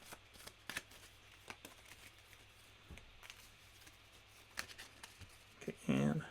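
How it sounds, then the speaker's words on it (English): A deck of cards being shuffled at a tabletop card game, soft scattered taps and rustles building to a dense riffling burst at the end, close and quiet. "Let's shuffle this up a little bit."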